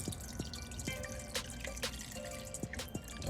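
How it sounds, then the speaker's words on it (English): Red juice drips through a cheesecloth strainer, with faint, irregular droplets tapping over a soft background hush. "Get our cheesecloth and strain."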